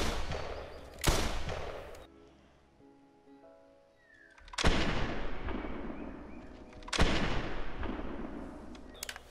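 Loud double-barrel rifle shots in the hunting video game theHunter Classic, three sharp blasts at roughly one, four and a half and seven seconds, each trailing off into a long rolling echo over quiet outdoor ambience.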